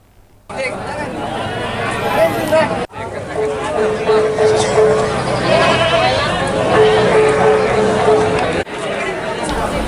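Goats bleat repeatedly at a busy livestock market in Malang ahead of Eid al-Adha, their cries rising over a steady babble of crowd chatter and nearby talk.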